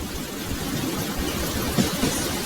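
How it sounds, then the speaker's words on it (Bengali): Heavy rain pours down steadily in a Bengali horror cartoon scene on a train, a dense even hiss with a couple of soft low rumbles. "এরই মাঝে হঠাৎ জমজমিয়ে বৃষ্টি"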